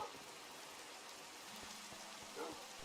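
Steady rain falling in the Minecraft video game on a morning of survival play, a dense even hiss with a soft low patter running throughout the short stretch and no voices.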